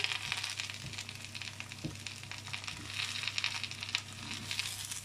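Chinese cabbage frying in a pan with shrimp and noodles, a steady dense sizzle with crackling pops throughout, close and fairly loud, no talking.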